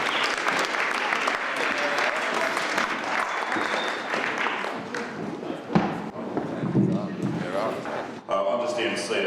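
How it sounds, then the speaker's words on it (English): An audience applauds the emcee Austen Tayshus at a 2002 artists' wake event, with dense sustained clapping filling most of the clip, loud and close, and voices audible through it. "let's give him a big round of applause"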